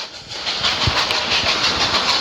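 Train running in the Roblox game Choo-Choo Charles, a steady loud rumble and hiss with soft rhythmic clatter and a few sharper knocks, continuous throughout.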